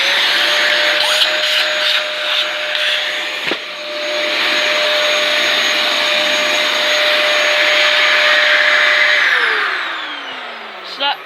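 A Dyson DC27 upright vacuum cleaner runs loud and steady from start to finish, its motor whine broken by one brief drop near the middle, then winding down at the end.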